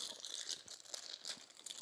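A plastic bag crinkles and crunches close by while a Polaris Lock & Ride cooler for a 2025 RZR XP is unpacked, with soft, irregular rustling bursts and no talking.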